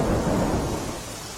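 Heavy rain pours over farm fields in rural Upleta, flooding them, while deep thunder rumbles loudly and steadily throughout the short stretch.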